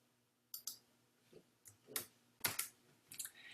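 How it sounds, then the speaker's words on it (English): A few sharp computer mouse clicks, scattered and quiet, with small clicking noises between them, as someone clicks an invite button in a live pen booking tutorial. "I'm going to click invite"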